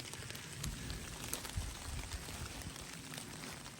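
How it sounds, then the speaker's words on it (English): Steady rain falls and drips from trees during a wet day-two hike, with a soft continuous patter and occasional heavier drops landing nearby, fairly quiet. "That rain is like on and off today, guys."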